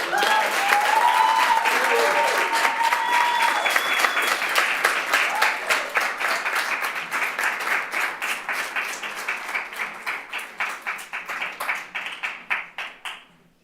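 An audience at a city council meeting applauds, a dense wash of many hands that thins into scattered, slowing claps before fading out, with some murmured voices underneath.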